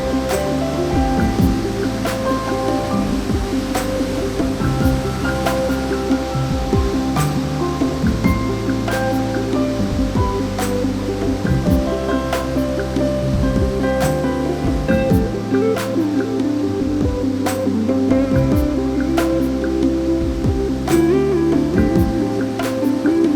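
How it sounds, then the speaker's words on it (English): A waterfall in a narrow rocky gorge in Nongkhnum village roars continuously, a dense, loud, unbroken rush of falling white water with no voices. "we could hear the roar of the water."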